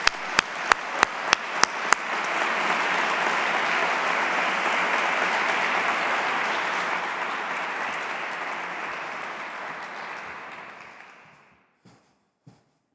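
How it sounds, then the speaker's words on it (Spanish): Sustained audience applause at a European journalists' economic journalism award ceremony for the prize winner, opening with a few sharp distinct claps, then swelling into dense steady clapping that fades out near the end. "pido a todos los presentes un aplauso para el merecidamente galardonado"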